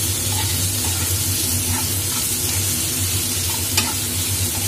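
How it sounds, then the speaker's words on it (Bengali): Chopped tomatoes stir-fried in hot oil in a pan for a Bengali katla fish curry with potatoes, giving a steady, close sizzle with soft scraping stirs and one sharp clink near the end, with no voices. "ভালো করে এটাকে আবার তেলের উপর নাড়তে হবে"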